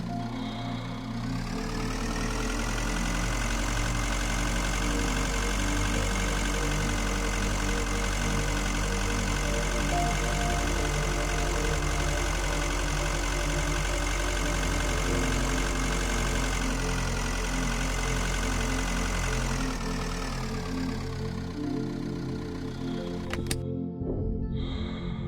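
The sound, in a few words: spacecraft engine idling in the video game Breathedge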